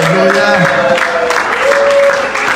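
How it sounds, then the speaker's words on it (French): A church congregation raises acclamations and joyful cries, a loud crowd of overlapping voices and clapping with sustained shouted tones rising above the din. "Manifestons-les par des acclamations et des cris de joie."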